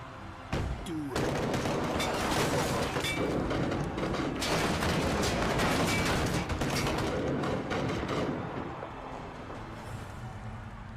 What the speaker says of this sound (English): The government just openly fired on civilians, women, kids.